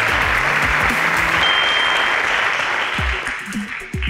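Audience at a Lagos secondary-school quiz show applauding a correct answer, a dense burst of clapping that carries on for several seconds and then tapers, with a voice faintly underneath.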